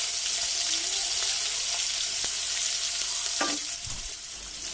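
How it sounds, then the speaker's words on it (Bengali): Thin-sliced potatoes and black cumin seeds sizzle in hot oil left over from frying fish, a dense steady close crackle with a brief stir near the end. "বাকি তেলের মধ্যে আমি দিয়ে দেব কালো জিরে ফোড়ন। এবার দিয়ে দিচ্ছি চিকন করে ফালি করে কেটে নেওয়া আলু"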